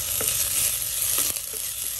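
Onions and green chillies fry in oil with curry leaves, giving a continuous close sizzle. A few soft stirring scrapes sound over the bubbling, with no voices.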